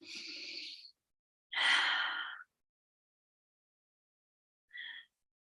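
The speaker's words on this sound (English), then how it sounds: "Take some deep breaths into the belly." Deep, slow breaths drawn during a floor yoga flow: a long breathy exhale, then a fuller, louder breath after a pause, and a short faint breath near the end, all close and with no talking.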